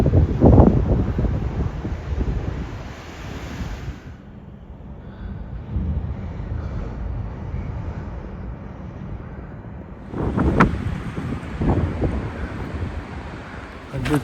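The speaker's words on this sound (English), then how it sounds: "Very windy today." Strong wind gusts across the microphone on an island in the Åland archipelago, roaring and buffeting loudly, easing to a lower steady rush in the middle before surging again.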